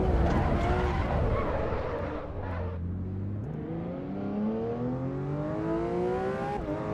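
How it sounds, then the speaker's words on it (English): A Porsche 992 GT3 RS races in a driving video game, its engine revving up through rising gear pulls with shifts between them and a hint of tire squeal, loud and continuous. "we're driving the Porsche 992 GT3 RS"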